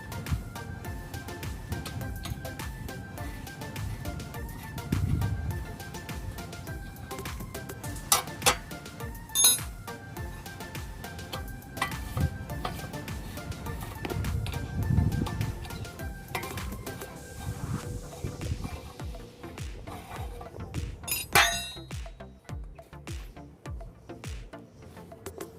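Screws are undone from the back of a Proton Exora radiator fan motor, with scattered small metallic clicks, ticks and clinks, some louder knocks, over a quiet room and faint background music.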